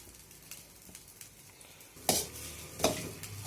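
Boiled rice being stirred into gravy in a pan while making vegetable fried rice, with soft scraping strokes and a faint sizzle that turn into two louder, sharp scrapes near the end. No voices.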